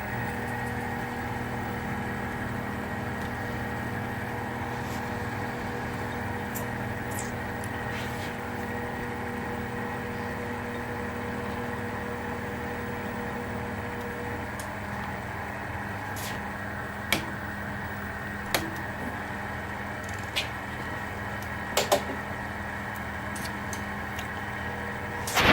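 A Sieg mini lathe runs steadily at about 1400 RPM, giving a continuous motor hum with a faint whine that holds even throughout, with a few small ticks and clicks near the end.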